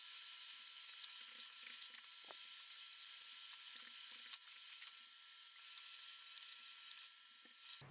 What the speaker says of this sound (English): I've got this on high heat and the highest fan setting